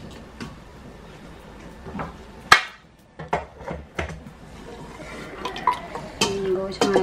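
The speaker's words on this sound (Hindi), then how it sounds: "10 मिनट हो गए हमारे कुकर को, खोल के देख लेते हैं।" A pressure cooker holding cooked meat is opened in a home kitchen: a sharp metallic clank of the lid followed by scattered clinks and knocks of metal, close and moderately loud, over a quiet background.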